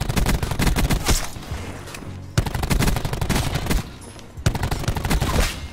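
Rapid automatic fire from the Maddox rifle in Call of Duty Black Ops 4, loud sustained bursts of closely spaced shots broken by brief pauses around two and four seconds, with no talking.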